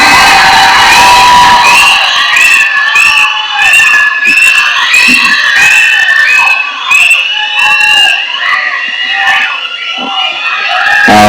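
Crowd at a Tamil film event cheers, whistles and claps loudly for a speaker called to the stage, with high excited shouts and whoops rising and falling over continuous noise.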